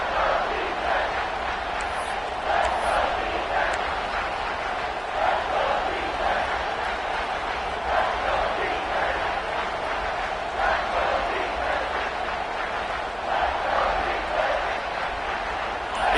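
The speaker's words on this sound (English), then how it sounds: "with this place rocking, the crowd forces a false start." Dense, sustained roar of a packed stadium crowd at an Auburn football game, loud and continuous with swelling cheers, under a commentator's voice.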